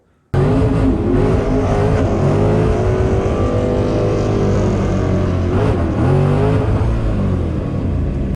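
A race car engine stuck in limp mode and not shifting roars loudly and continuously at close range, its pitch wavering slightly without any clear gear changes.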